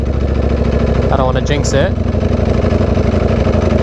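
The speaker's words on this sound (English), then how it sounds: "Looks like it's idling good so far." A V4R motorcycle engine idles close by, a loud, steady low rumble with a slight fluctuation, while someone talks over it briefly.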